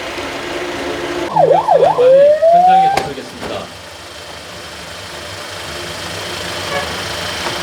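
A nearby ambulance siren during an emergency drill in Busan, South Korea, gives a short wailing whoop that rises in pitch, then cuts off, leaving a low idling engine rumble.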